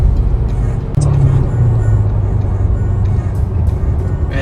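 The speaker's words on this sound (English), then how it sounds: "This sounds like a 4 with some sound actor stuff going on." Toyota prototype four-cylinder engine with synthetic sound enhancement, a low steady drone from inside the moving car under acceleration, fairly loud and continuous with a faint click near the start.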